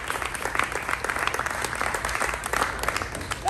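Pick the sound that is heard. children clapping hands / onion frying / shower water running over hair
children clapping hands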